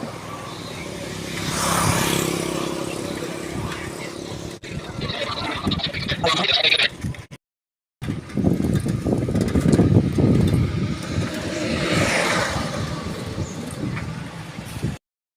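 Highway road traffic passing a bicycle ride, a continuous broad roar of vehicles with wind rush that rises and falls, briefly cutting out midway, near and fairly loud with no talking.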